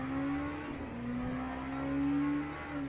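LMP3 race cars circle in the Le Mans Ultimate sim, a steady engine whine holding one pitch and swelling slightly as the cars pass, fairly quiet and with no talk.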